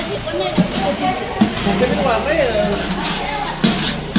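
Ground masala paste of roasted onion and roasted coconut sizzling and frying in a pan, a steady hiss with occasional stirring scrapes beneath a person talking nearby.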